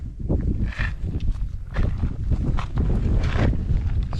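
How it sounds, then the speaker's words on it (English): Strong gusting crosswind buffeting the microphone in heavy low rumbles that rise and fall, with faint rustling beneath, outdoors on public land in Idaho. "Still windy."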